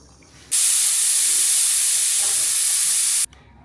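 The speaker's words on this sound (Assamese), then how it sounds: "চিটিটো গ'ল" A pressure cooker on a chicken curry vents steam as one loud, continuous hiss. The hiss starts abruptly, holds for nearly three seconds, then cuts off sharply, with no speech around it.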